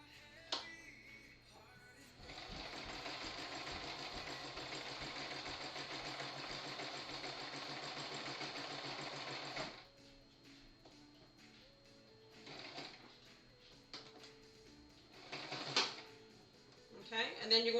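Sewing machine stitching fabric for a fursuit, a rapid steady whir for several seconds that stops abruptly, followed by short bursts and handling sounds.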